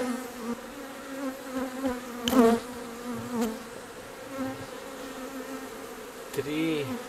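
A swarm of honey bees at a hive, a steady close buzzing drone that rises and falls, with a few louder bees passing near during April hive work.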